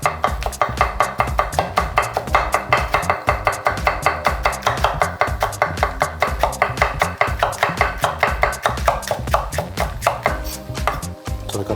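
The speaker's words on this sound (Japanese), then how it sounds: "色味のことも考えて紫キャベツを入れてみましょう。 これも同じように細く切っていきます。" Red cabbage is sliced thinly with a knife on a cutting board, a steady rapid series of close, crisp chops with a regular rhythm and no talking.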